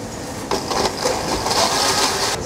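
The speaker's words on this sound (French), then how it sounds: "On rajoute notre pulpe de fruits de la passion et qu'on va mixer" A blender whirs as passion fruit pulp is blended into a coulis for a mango tatin with lime, a dense, loud motor roar that starts abruptly and holds steady, close and without voices.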